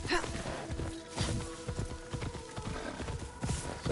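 Hooves clip-clop in a steady walking rhythm in the video game Assassin's Creed Shadows, close and clear, with a horse's snort and a faint whinny mixed in.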